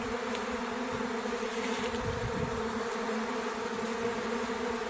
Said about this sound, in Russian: Вот даже пчелка и на меня села.